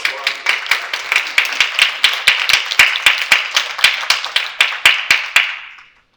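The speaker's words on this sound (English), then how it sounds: "A round of applause for her." Audience applause at an academic conference panel, with rhythmic clapping and a few sharp individual claps, loud and close, fading out toward the end.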